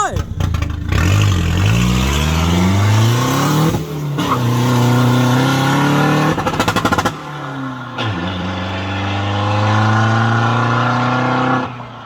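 Isuzu D-Max 1.9 turbo pickup with a remapped engine and copper clutch launching hard, its engine roaring loud and close as it climbs through gears with sharp breaks at each shift.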